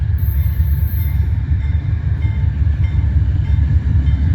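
A train led by a GE B36-7 locomotive rumbles past close by, a loud, steady low-pitched roar of engine and rolling wheels with a brief faint high squeal near the start.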